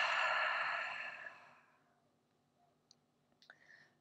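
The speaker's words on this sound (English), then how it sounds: "we'll take a big few breaths into the nose, out through the mouth" A long, strong breath blown out through the mouth during a calming yoga exercise, loud at first and fading away, followed by a few faint clicks.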